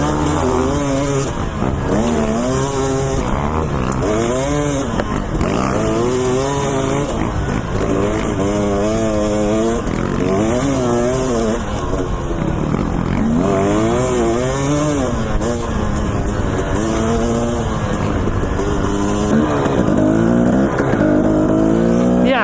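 A dirt bike engine revs and bogs continuously while riding a desert trail in Idaho, its pitch rising and falling through repeated throttle surges, loud and close throughout with wind rushing past the rider.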